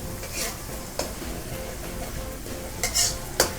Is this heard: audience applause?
no